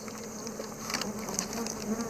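Bees buzz in a dense, steady drone around a hive raided by a honey badger, close and continuous with no other sounds.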